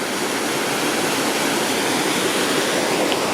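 A waterfall roars in a steady, dense rush of falling water, loud and unbroken throughout, with no voices.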